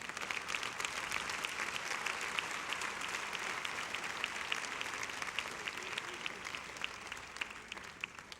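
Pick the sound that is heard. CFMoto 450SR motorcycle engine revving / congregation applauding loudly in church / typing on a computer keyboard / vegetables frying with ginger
congregation applauding loudly in church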